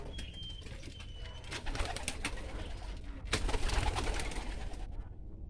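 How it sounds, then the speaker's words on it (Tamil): Pigeons coo softly over a busy background of fluttering and rustling as the birds are released, with low murmuring calls continuing throughout and no talk. "அப்போ தான் வந்து புறாக்கள் வரும்."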